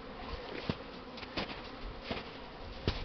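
Honeybees making their spring cleansing flight near the hive: a steady soft buzzing drone, with a few louder buzzes as single bees pass close by.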